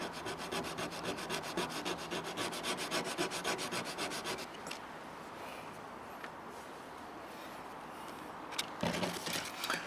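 Sandpaper rubs a wooden fishing float to taper its ends, first in quick rhythmic strokes, then in a softer continuous rubbing as it rotates, close and quiet, with a couple of sharp knocks near the end.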